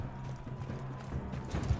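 Horse hooves in Mount & Blade II Bannerlord, a run of soft, rapid clip-clopping under low battle noise, fairly faint and close, with a short snort-like burst near the end.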